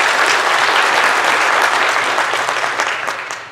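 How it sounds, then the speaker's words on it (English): Sustained applause from a church congregation, loud and dense throughout, trailing off slightly toward the end. "Let's give him a round of applause."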